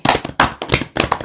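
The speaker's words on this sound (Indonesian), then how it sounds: "Tepuk tangan dulu dah." A small group clapping hands in a village classroom during a farewell to host parents on a school expedition, several short loud bursts of close claps separated by brief pauses.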